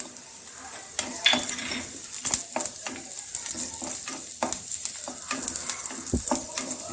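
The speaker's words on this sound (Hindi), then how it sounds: "और सबसे पहले हम काजू को डालते हैं। लो फ्लेम पे इसे भूनना है।" Cashews and almonds dry-roasting in a kadhai over a low flame, with steady scraping and stirring, light rattling of the nuts and faint sizzle-like hiss, heard up close throughout with no talking.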